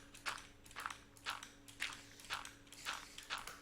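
A spider creeping on a rooftop in a Minecraft map, heard as a steady run of about seven scratchy, clicking footfalls spaced roughly half a second apart, fairly close, with no voices.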